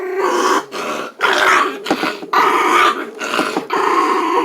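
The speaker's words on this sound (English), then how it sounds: "Well, one dog decided to go pick on the other one." Two dogs growling and snarling at each other in a fight outdoors, loud and close, with bursts of rough growls broken by brief pauses.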